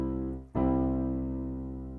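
An acoustic piano plays an open-position chord with C in the bass, struck once after a brief fading note and left to sustain, decaying slowly and close.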